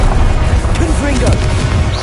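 The Confringo blasting spell in Hogwarts Legacy lands as a loud, rumbling boom that rolls on for a couple of seconds, with a voice briefly heard through the blast.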